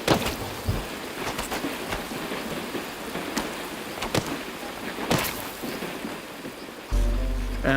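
Heavy rain pours down in the Amazon rainforest, a steady broadband hiss of falling water with scattered sharper splashes and drips, close and continuous.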